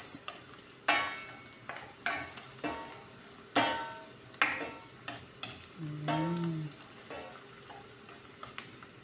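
Garlic frying in a pan for pancit, with a spatula scraping and stirring in repeated sharp strokes over a low, steady sizzle, close and moderately loud.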